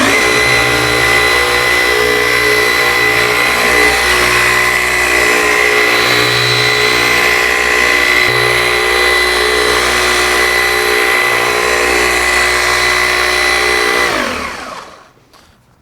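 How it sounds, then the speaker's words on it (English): A car polisher spins a polishing pad loaded with medium cut polish on original single stage paint, a loud steady motor whine with a constant hum that winds down and stops at the end. "So that was a polishing pad with a medium cut polish"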